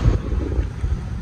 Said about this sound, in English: It's gonna be windy.